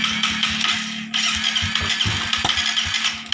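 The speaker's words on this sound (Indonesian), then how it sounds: "Kalau sudah ini, kemudian coba kita hidupkan motor ya." A Suzuki GSX motorcycle with a weak ignition signal is cranked repeatedly and struggles to start, giving a steady mid-pitched engine hum broken by irregular rattling pulses and close mechanical clatter, with no speech.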